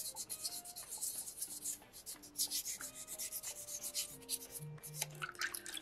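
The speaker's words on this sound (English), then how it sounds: "Sandpaper 2 smooths it out, starts to bring out those natural colors" Sandpaper rubs over a carved soapstone fish during smoothing, making repeated short rasping strokes in an uneven rhythm, close and fairly loud, with soft tonal background music underneath.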